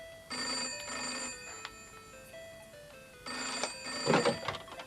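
Household telephone ringing indoors in two clear double-burst rings, bright and electronic, fairly close, with faint rustling and movement between and after the rings.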